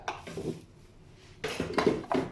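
A metal lid is set onto a cooking pot, giving a few close clanks and rattles as it settles, with light kitchen handling noise around it.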